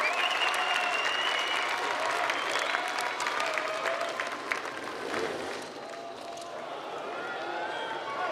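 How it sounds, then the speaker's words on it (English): Spectators at an X-Trial motorcycle trial competition in an indoor arena in Clermont-Ferrand, France, applaud steadily and loudly throughout. A commentator talks over the sustained clapping. "Avec quelques applaudissements, Matteo est capable d'arrêter la moto là-haut"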